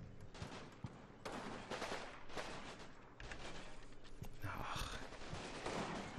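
Gunfire aimed at a tank in the Combat Mission Fortress Italy war game, rapid rattling bursts of small-arms and machine-gun fire crackling almost continuously at moderate distance, with no talk.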